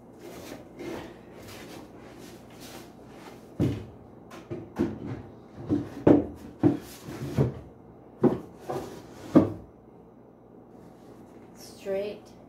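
The second drawer of a wooden dresser is worked repeatedly, giving a run of sliding scrapes and hollow wooden knocks, with a person talking quietly in between.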